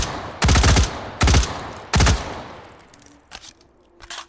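Rapid automatic gunfire in the H3VR virtual reality shooting game comes in three loud, close bursts, each about half a second long, followed by quieter scattered clicks and handling noises.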